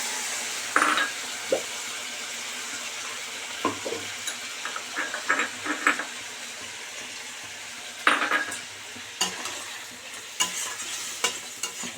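Sauce water is poured over chili chicken sizzling in a pan, giving a soft, steady frying hiss broken by repeated clinks and scrapes of a utensil against the pan, close by and without voices.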